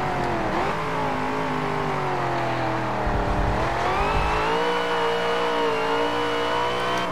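Race car engine in Forza Motorsport 7 drag racing, revving loudly and continuously with shifting pitch as it accelerates, a brief dip and surge midway, heard alone throughout.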